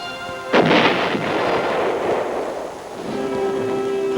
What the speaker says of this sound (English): giant 8-inch howitzers reinforced the air-mobile batteries